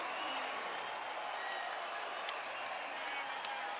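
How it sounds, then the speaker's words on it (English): Basketball arena crowd roaring in a sustained, dense wall of cheering after a half-court buzzer-beater in a college game between SMC and UC Irvine, loud and continuous with scattered applause throughout. "And sends this crowd into a frenzy."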